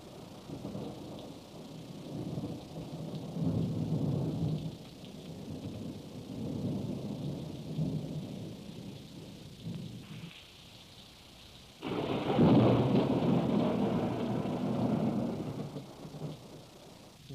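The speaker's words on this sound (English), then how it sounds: "They had a thunder and lightning storm with rain." Low rumbling thunder rolls on under a steady wash of rain, fading briefly before a louder, closer rumble swells and lingers.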